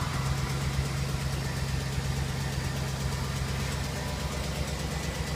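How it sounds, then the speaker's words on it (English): A Cadillac Escalade ESV idles steadily with an exhaust leak, a continuous low engine drone with a faint rough ticking, heard up close and alone with no talking. "bear with me while I get the truck started, and ignore the exhaust leak"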